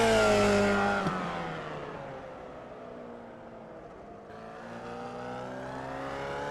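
A Formula Vee race car lapping Tsukuba in iRacing, its engine droning loudly at first, then the pitch sinks and fades as it slows before climbing again under renewed throttle, with no voices.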